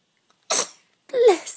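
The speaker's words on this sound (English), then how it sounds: "You gonna sneeze?" A baby sneezes twice in quick succession, small breathy bursts close by, separated by a short pause in an otherwise quiet room.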